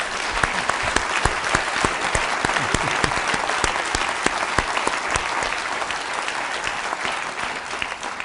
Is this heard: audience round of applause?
yes